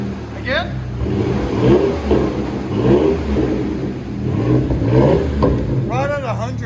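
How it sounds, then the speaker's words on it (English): Ford Ranger with a 3.0L V6 and straight pipes through several catalytic converters revs steadily, a muffled, subdued engine drone rising and falling repeatedly, with people talking over it throughout. "As you guys can see, it's straight pipe, but because of all the converters, there's barely any sound."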